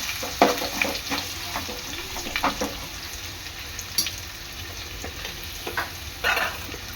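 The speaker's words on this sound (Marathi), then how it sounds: "आपला लांब चिरलेला उभा कांदा कांदा आपला चांगला लाल होईपर्यंत शिजून घ्यायचा आहे" Sliced onion with paste sizzles steadily in a pan while being stirred, giving a continuous frying hiss broken by occasional spatula scrapes and taps, with no talking.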